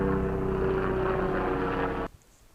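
A loud rotor and engine roar dominates for two seconds, then cuts off abruptly, leaving quiet background.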